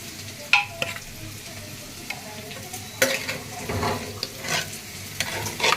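Biryani cooking in a pot, stirred with a utensil that scrapes and clatters in scattered bursts over a low, steady sizzle; fairly close, with no talking.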